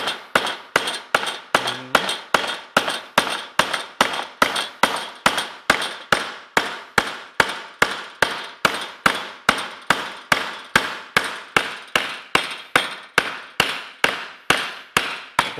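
Steady, evenly spaced hammer blows driving nails into wood, about two strikes per second, each a sharp close clang with a quick decay, repeating for the whole stretch with no talk.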